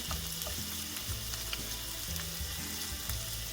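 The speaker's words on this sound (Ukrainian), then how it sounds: "І лише потім кладемо креветки. Креветки смажуться дуже швидко." Shrimp fry in hot oil with garlic, a steady loud sizzle with crackles and occasional stirring scrapes in a pan, no one speaking.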